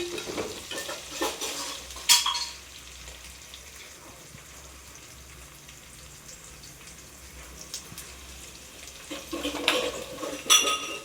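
Onions fry in a pan with a steady soft sizzle, broken by louder scrapes and clinks of a spoon stirring against the metal near the start and end, with no talking.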